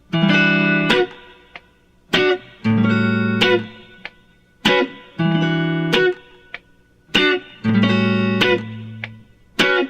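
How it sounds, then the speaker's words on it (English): Electric guitar chords from Boz Scaggs' "Lowdown", strummed on the high strings with the fingernails, played alone in a steady pattern of short, bright strums with brief gaps between them. "I use my nails to strum the high strings like this"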